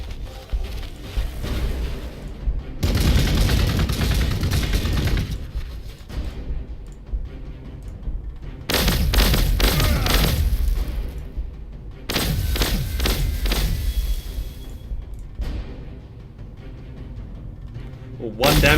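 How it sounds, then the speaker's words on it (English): A Thunderfire cannon fires in the Warhammer 40,000 Gladius: Relics of War video game, heard as loud sustained bursts of booming, thudding artillery in several long waves, with a voice talking over parts of it. "A Thunderfire cannon? Oh, I think that's good versus infantry."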